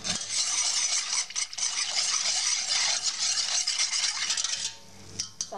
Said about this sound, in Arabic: غادي نحرك